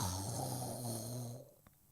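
A female storyteller imitates a husband snoring beside his wife in bed, giving one long drawn-out rasping snore that fades out, with a brief breathy sound at the end and no other talk.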